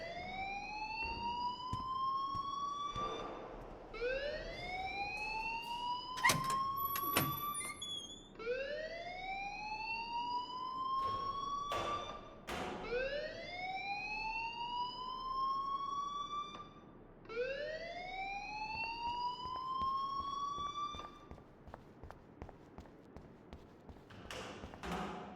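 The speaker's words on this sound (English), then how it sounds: "please turn off that alarm since that's your job." A school alarm rings in Life is Strange Remastered, a repeating electronic siren whose rising whoops come in steady cycles of roughly four seconds, loud and continuous with no talking.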